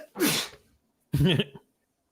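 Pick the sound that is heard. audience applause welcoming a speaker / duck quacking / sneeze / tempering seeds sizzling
sneeze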